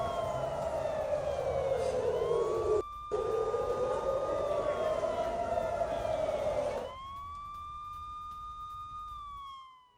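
A warning siren for a missile attack wails, rising and falling steadily, loud and sustained, its tone sweeping slowly before it cuts off and fades near the end.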